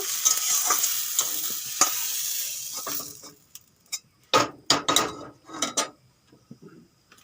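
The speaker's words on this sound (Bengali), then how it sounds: "বেগুনগুলো এইভাবে ভেজে নিয়েছি এখন তুলে নেব" Eggplant slices fry in oil, sizzling loudly and steadily, then the sizzle fades and a few sharp utensil scrapes and clinks follow.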